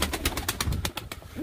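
Several soft, rhythmic coos from tumbler pigeons repeat close by, low and throaty, with no talking.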